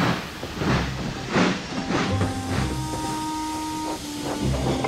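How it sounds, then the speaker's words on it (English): A cartoon steam engine chuffing slowly and hissing steam, with rhythmic puffs and a sustained tonal whistle-like hum running through, close and moderately loud with no talking. "And with a low toot, Thomas chuffed sadly back to Tidmouth."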